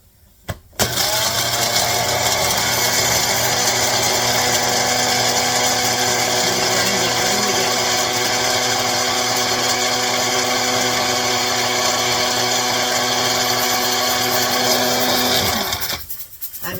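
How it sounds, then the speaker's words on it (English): A small Magic Bullet blender grinds dehydrated onion into powder, a loud steady high-pitched motor whine running continuously for about fifteen seconds before cutting off. "I'm going to put it in my little magic bullet"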